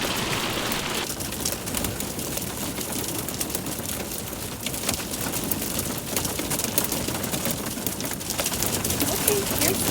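Hail pelting down at about 10,000 feet elevation in summer, a dense continuous clatter and hiss of stones striking surfaces, loud and unbroken throughout, with a voice speaking over it.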